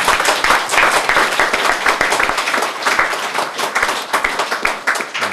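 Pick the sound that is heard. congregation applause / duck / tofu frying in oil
congregation applause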